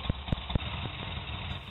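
An AJS S3 in-line V-twin motorcycle engine idles at close range with a low, steady throb and a few sharper pulses near the start.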